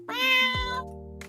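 A person's voice imitates a cat's meow: one drawn-out, nasal meow that slides down at the end, close and clear, followed by a faint short breath.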